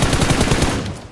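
Automatic gunfire in the mobile game PUBG Mobile, a loud rapid burst of shots that rattles on and then fades away at the end.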